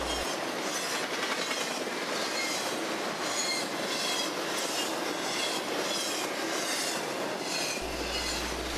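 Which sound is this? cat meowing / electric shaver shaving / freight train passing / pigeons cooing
freight train passing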